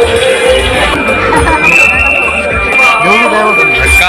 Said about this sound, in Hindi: अबे बहुत भीड़ है, बहुत भीड़ है।